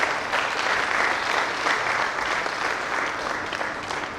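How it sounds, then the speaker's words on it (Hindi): An audience claps steadily for two retiring colleagues at a farewell function. The applause is dense and sustained throughout, with no pauses and no voices heard. "आप लोग तालियों से इनका स्वागत करें।"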